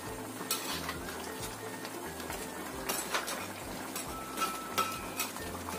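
Crab simmering and being stirred in a pan as the liquid reduces and the spices soak in, with repeated scraping strokes over a steady low bubbling, close and moderately loud, no voices.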